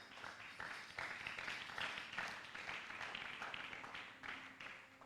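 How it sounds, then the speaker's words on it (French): Church congregation applauding, a steady wash of many hands clapping with broadband bursts throughout, fairly distant and moderately quiet. "Est-ce qu'on peut acclamer la parole de Dieu?"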